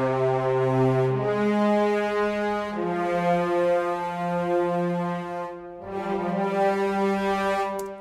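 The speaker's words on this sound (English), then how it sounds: "Horns and cellos, they sound like this." Orchestral mockup of horns and cellos playing together: sustained, brassy chords with a warm low string line beneath, changing harmony every couple of seconds, full and steady with no talking.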